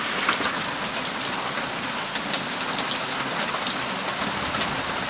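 Pea-sized hail falls during a storm, a dense steady clatter and patter of many small impacts on outdoor surfaces, loud and continuous throughout.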